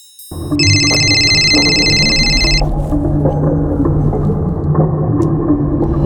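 An electronic phone ring trills in two rapid bursts over a steady low rumble, then stops while the rumbling background continues.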